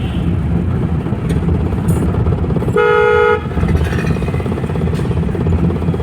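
A single car horn honks for about half a second over steady, loud engine rumble and road noise.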